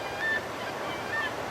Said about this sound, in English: you can hear the gulls crying in the morning